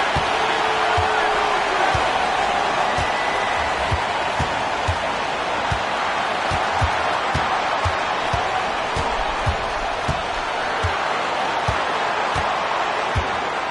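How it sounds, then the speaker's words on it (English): Virtual arena crowd murmurs throughout a video game basketball broadcast, with a sharp ball bounce or slam thumping at regular intervals through the crowd noise. "The crowd is on edge."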